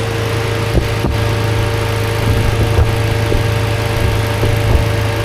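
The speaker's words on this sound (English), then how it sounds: "I'll rev it, put it right here in the engine bay," A 2017 Chevrolet Malibu turbo engine heard close up in the engine bay, a steady, loud idling hum with a constant low drone and a few faint clicks, with no clear rise in revs.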